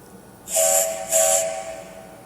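Two loud, hissing blasts of a cartoon steam locomotive whistle, one after the other, close and clear.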